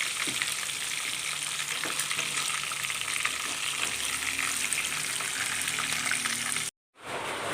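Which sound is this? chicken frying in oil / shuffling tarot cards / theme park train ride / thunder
chicken frying in oil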